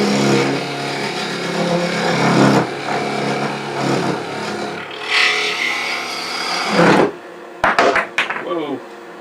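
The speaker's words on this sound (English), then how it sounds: "So I'm taking my parting tool." A parting tool cutting wood on a spinning lathe, a continuous rough scraping whine that shifts in pitch, breaks off abruptly, then a few quick clattering knocks follow.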